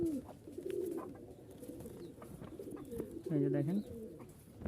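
Rajshahi Giribaz flying pigeons, including a crested, feather-footed pair, give soft throaty coos, one clearer burst near the end, while someone talks over them close by.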